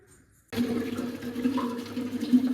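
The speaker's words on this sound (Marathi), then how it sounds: "साडेसात वाजता पाणी येते" After a brief quiet moment, tap water suddenly gushes and keeps running in a steady, full rush at a village house.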